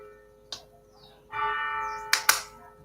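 A bell rings once in a county commissioners' meeting room, a sustained pitched tone lasting under a second, set among sharp nearby knocks and clicks in an otherwise quiet room.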